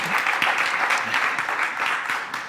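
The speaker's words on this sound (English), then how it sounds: "Round of applause for John on our panel here this morning." An audience claps steadily for a panelist at a morning cybersecurity event, a dense, even burst of applause that trails off slightly at the end.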